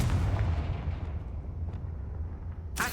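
A Confringo blasting spell explodes in Hogwarts Legacy: a deep booming burst with a rumbling tail that fades over a couple of seconds, and a sharp crack right at the end.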